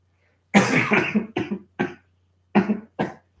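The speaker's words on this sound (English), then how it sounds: "Sorry about that. I have a small cough going on." A burst of coughing, several rough coughs in quick succession, then a short pause and two more coughs, close and fairly loud.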